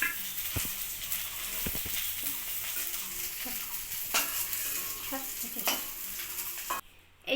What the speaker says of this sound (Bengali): আমি মাছটা ভাজা বসিয়ে দিয়েছি।